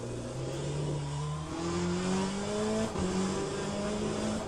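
A BMW GTE race car in a racing video game brakes hard into a double left hairpin, its engine note dropping through downshifts in a steady, close, loud whine with no voices.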